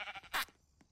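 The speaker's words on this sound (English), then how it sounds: "Wait a minute. There's a sheep." A sheep in a Roblox game lets out one short, bright bleat near the middle, loud and close, with a faint softer call trailing after it.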